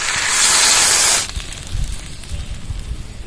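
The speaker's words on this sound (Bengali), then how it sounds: "এবার জল দিয়ে দেবো" Water hits a hot pan of fried potato, pumpkin and onion in a loud burst of hissing sizzle that lasts about a second, then drops to a quieter bubbling simmer.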